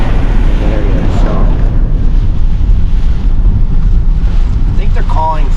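Strong wind roars across the microphone at St. Petersburg, Florida, near the Skyway Bridge during Tropical Storm Debby, with high-tide waves and surf rushing beneath it, loud and steady throughout, and a brief voice near the end.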